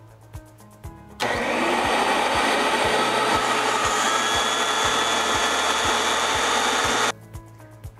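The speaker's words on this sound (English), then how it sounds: "you're ready to turn your vacuum on, and whether your hose has a trigger or not, pull that trigger and your power head, mini power head, will have power" Vacuum cleaner with a Stair Pro power head attached to the hose, switched on to a steady, loud roaring whine that holds for about six seconds before cutting off, with light clicks before and after.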